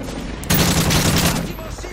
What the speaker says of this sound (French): Le bruit des armes est mieux fait.